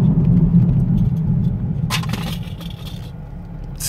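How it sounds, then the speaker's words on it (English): A 2018 Chevy Camaro RS 2LT brakes hard from 47 mph: a low road rumble, then a brief burst of tire scrub and brake noise about halfway through before the car settles. "if I test the brakes right now and hit them from 47 miles an hour"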